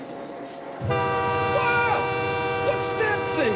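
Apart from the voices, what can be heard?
train passing at night with horn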